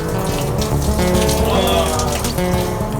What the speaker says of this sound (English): How's that hot shower feel, Jake?